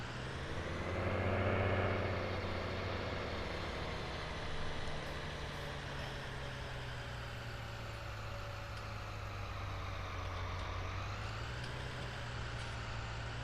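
Idling truck engine in a farming simulator roleplay at night, a steady low rumble with harmonic drone that swells briefly early on, then holds evenly, close and continuous with no talk.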